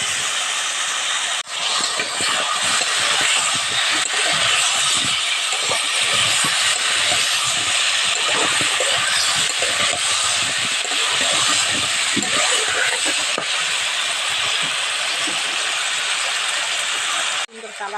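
Potatoes sizzle loudly in hot oil in a pan, a dense, steady hiss with crackling spatter that runs unbroken for the whole stretch, close and strong.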